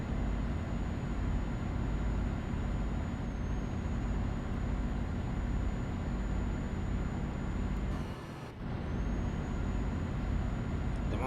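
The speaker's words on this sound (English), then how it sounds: "We need to do a brake test, the emergency braking system" A truck in Euro Truck Simulator 2 braking hard during an emergency brake test, heard as a steady engine and road drone that is cut by a brief air-brake hiss and dip before the drone resumes.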